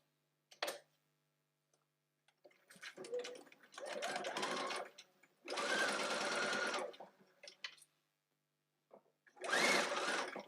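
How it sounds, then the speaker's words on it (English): A domestic sewing machine stitches the side seam of a fabric bodice toile in several short, close, rapid whirring bursts, with quiet pauses between them while the work is turned and checked. "I'm then going to swing the work round and sew out the side seam."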